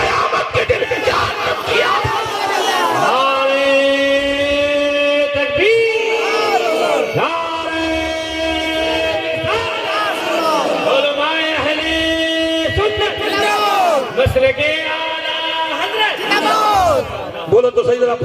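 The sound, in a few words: crowd chanting response to Naara-e-Takbeer call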